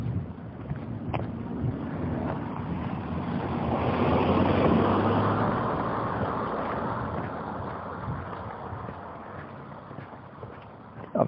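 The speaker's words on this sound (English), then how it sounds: "Obviously you can't get away from the noise of the car" Car noise near a side street: a broad, steady rush that swells to a peak and slowly fades, with faint wind and no talking.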